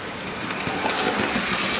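A Hornby Maunsell S15 model steam locomotive hauls a rake of mineral wagons, giving a steady, close, continuous whirring rumble with no talk.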